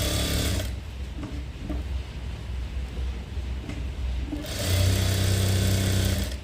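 A sewing machine stitches along the edge of a maggam work blouse, running in two loud whirring bursts at the start and end, with quieter mechanical hum and handling noise between them.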